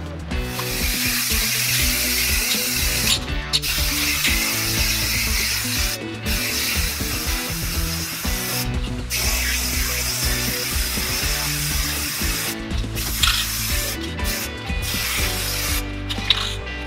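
Spray paint goes on as the last coat of a Bitfenix Nova computer case, a loud steady hiss in long bursts broken by several short pauses.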